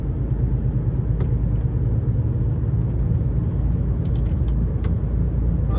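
Cars roll past on an Aberdeen road, giving a steady, loud rumble of tyres and engines close by that holds even and unbroken throughout, with no one talking.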